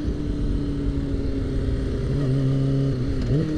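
A motorcycle engine drones steadily while the bike is ridden, loud and close, holding an even pitch before briefly dipping and rising near the end. No one speaks.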